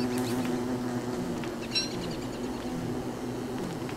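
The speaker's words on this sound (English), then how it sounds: "Kill the flies, those are bees." Bees buzz in the video game Don't Starve Together as a soft, steady insect drone with faint chirpy accents, holding at a low, even level throughout with no talking.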